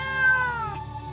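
A voice imitates a cat with a single drawn-out meow that bends downward and trails off, close and clear, during the telling of a Puss in Boots story.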